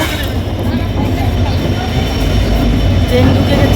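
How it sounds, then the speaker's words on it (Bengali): A passenger train pulls into Agartala railway station, a steady low rumble of wheels and carriages rolling close by, continuous throughout with a slight swell near the end, with a voice talking over it. "আমাদের ট্রেন ঢুকে গেছে"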